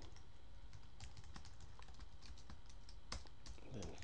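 Quiet, steady typing of code on a computer keyboard, with a continuous patter of soft keystrokes and one sharper clack near the end, close and alone without talk.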